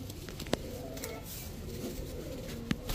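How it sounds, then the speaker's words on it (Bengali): Two pairs of pigeons, red khaki and red babra choitail males and females, cooing softly in a loft, with a low continuous murmur and a couple of brief sharper sounds. "এই হচ্ছে টোটাল 2 জোড়া কবুতর"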